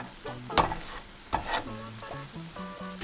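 Chicken skin sizzles and fries in a pan, with a few sharp scraping stirs. Soft background music plays underneath.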